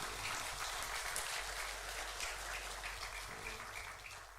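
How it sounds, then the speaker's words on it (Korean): Church congregation applauding during an ordination thanksgiving service for new deaconesses, a faint, even patter of clapping heard from a distance, holding steady and thinning slightly toward the end. "박수해 주시죠."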